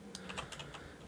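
Fingers type on a computer keyboard, a brief run of quiet, close key clicks at an uneven rhythm with no voices.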